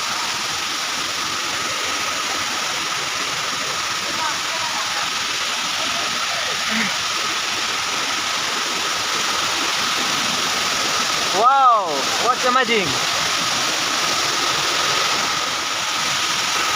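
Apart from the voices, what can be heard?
waterfall flowing from top to bottom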